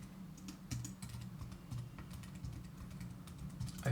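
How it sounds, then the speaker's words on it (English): Fingers type quickly on a computer keyboard, a dense run of light, close key clicks and taps in an uneven rhythm with no voice over them. "So let me just type the link there."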